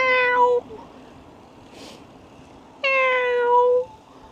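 Two clear cat meows, each under a second and tonal with rich harmonics, separated by a pause of about two seconds with faint room noise between them, close to the microphone.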